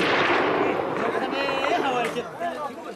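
Taliban gunfire during the 2002 battle of Qala-i-Jangi in Afghanistan: loud, dense bursts of shots and rumbling blasts fill the scene, with people talking and shouting close by.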